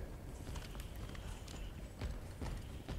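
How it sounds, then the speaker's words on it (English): Heavy footsteps of a pursuer in a Resident Evil video game on PlayStation, steady thudding steps in a regular rhythm over dense game ambience, fairly loud and close, no talking. "It's the footsteps that makes the game scary."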